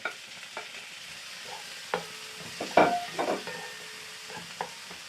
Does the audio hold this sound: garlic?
yes